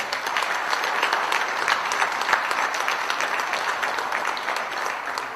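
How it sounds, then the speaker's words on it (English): Steady, dense applause from an audience at a city awards ceremony in Tempe, continuous and fairly loud throughout, no voices over it. "One more round of applause for Nicole"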